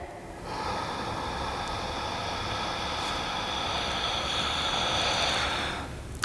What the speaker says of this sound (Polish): Wdech.